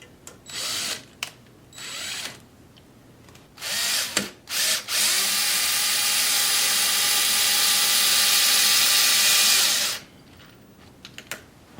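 A power drill whirs in short bursts, then runs steadily for several seconds before stopping, with a few brief clicks afterward.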